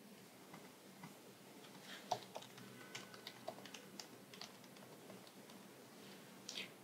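Login credentials typed on a computer keyboard, a close, quiet run of irregular key clicks with a few sharper taps and short pauses, heard alone with no talk.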